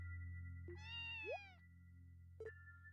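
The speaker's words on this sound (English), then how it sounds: "A cat?" In the video game Trails From Zero, a cat gives two meows against a steady low hum. The first is a longer, wavering call and the second a short chirp a moment later. Both are clear and fairly close, and no one speaks.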